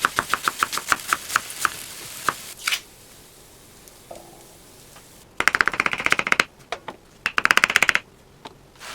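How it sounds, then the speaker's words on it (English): A knife chops mushroom and onion on a board in quick, sharp rhythmic bursts of taps, then a pause with faint sizzling before two more fast flurries of chopping, close and crisp. "got our mushroom and onion cut up"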